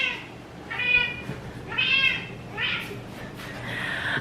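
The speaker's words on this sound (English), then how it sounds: "Oh, kitties." Cats meow up close indoors, about four drawn-out rising and falling cries in a row, over a low background hum.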